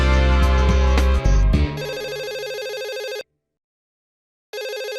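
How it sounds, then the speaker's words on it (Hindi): A phone rings with an incoming call in a Hindi sitcom scene: a bright electronic ringtone melody, then a loud repeating ring pattern that cuts to silence for over a second and starts again, with no voices. "अननोन नंबर से कॉल, ये कौन है?"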